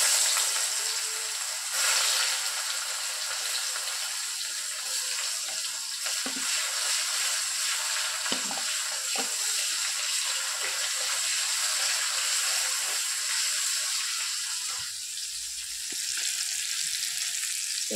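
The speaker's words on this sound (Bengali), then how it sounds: "এখন আমি এখানে পেঁয়াজ দিয়ে দিব, তেলটা গরম হয়ে গেছে" Onions hitting hot oil for an egg curry give a steady, bright frying hiss that holds close and even, with a few faint clicks underneath.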